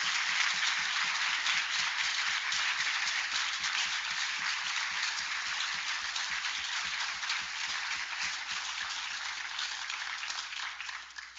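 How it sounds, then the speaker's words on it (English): An audience gives a sustained round of applause at an evening public talk, dense steady clapping throughout, fairly loud and without talk. "I'd just like everyone to join me in a round of applause to welcome our very special guests"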